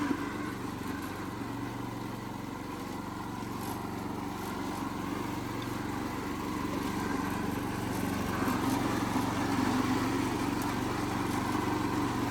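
A lawn mower engine running steadily outdoors over icy ground, a continuous rough drone without a break, close and loud throughout.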